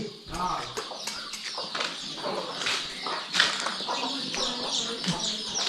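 A native village hen on a Konkan poultry farm flaps its wings in short, close bursts, with soft clucks and people talking nearby.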